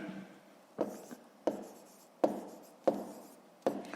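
A pen scratches on paper while working a fifth-grade math exercise, with about five crisp, evenly spaced strokes, each a sharp tap trailing into a short scrape, close and fairly quiet.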